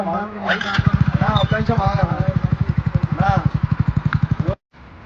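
A motorcycle engine chugs close by in a steady pulsing rhythm as voices talk over it, then cuts off abruptly.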